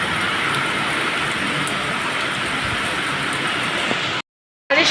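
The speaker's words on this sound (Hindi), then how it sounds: "फुल बारिश हो रहा है" Heavy rain pours in a loud, dense, steady hiss with no letup, then stops abruptly just before the end.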